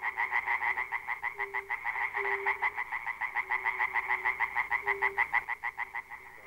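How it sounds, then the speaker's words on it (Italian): Frogs and toads croak in a dense, rapid pulsing mating chorus by a river, steady and rhythmic, with a few longer calls mixed in. "In lontananza si sentono i gracidii d'amore delle rane e dei rospi."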